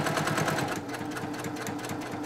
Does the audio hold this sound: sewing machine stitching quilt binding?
yes